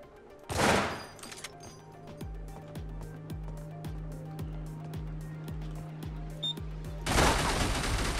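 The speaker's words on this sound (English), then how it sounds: "I was shooting at that" Gunfire in the video game Receiver: a steady run of about eight low, punchy shots at an even pace, with louder bursts of noise at the start and end and faint room sound underneath.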